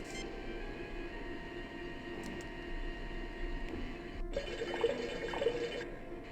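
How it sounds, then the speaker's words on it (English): Liquid bubbling inside a heated container in Star Trek: Judgement Rites, a faint, steady burble over a low hum, with a brief burst of louder gurgling near the end. "The container heats up slowly and the sound of bubbling echoes from inside."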